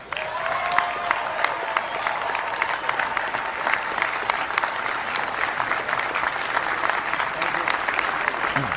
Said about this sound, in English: Those applause were warm